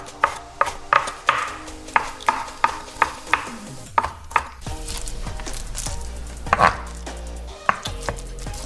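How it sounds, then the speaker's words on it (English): Knife chopping raw shrimp into thin little pieces for wontons, a run of sharp, evenly spaced board strikes up close, then a brief steady background hum before a few final scattered chops. "I'm going to cut my shrimp very thin,"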